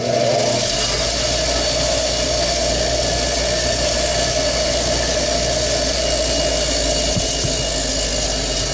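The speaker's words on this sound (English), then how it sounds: "I'm going to go ahead and touch this up on the wheel." A bench wheel runs at high speed while parts of a Miele SEB 213/217 vacuum power nozzle are touched up against it, making a loud, continuous whirring grind up close with no talk.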